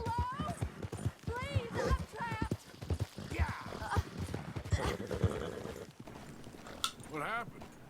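A horse in Red Dead Redemption 2 gallops with steady clip-clop hoofbeats and lets out several whinnies and neighs, clearly audible under someone talking over the game.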